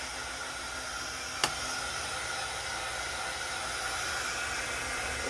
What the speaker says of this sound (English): This was one of my embossing tools.